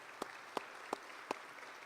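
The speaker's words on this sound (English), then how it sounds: "Let's give them a round of applause." A few scattered, evenly spaced hand claps from an audience thanking sponsors at a Macon-Bibb County State of the Community address, faint and distant against a quiet room hush.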